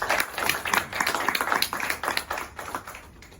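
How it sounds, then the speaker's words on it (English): A small room of people at a Nigeria national team press conference claps for a player. The applause is close and moderately loud, with distinct irregular hand claps that thin out and fade toward the end. "Please, let's give him a round of applause."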